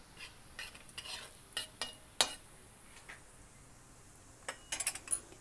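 Nigella seeds and turmeric powder frying in hot oil in a pan for egg curry, a faint sizzle broken by scattered spoon scrapes and clinks against the pan.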